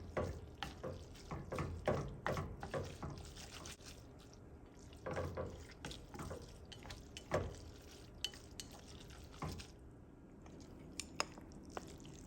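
Black bean noodles are mixed with jjajang powder, soft wet squelching and sticky clicking of stirring in a quiet room, faint and irregular.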